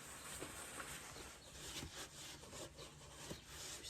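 Close, soft rubbing and wiping of a cloth oil rag over metal near the oil filter or drain plug of a 2010 Subaru Forester during an oil change, a steady low scuffing texture with faint scrapes and no talk.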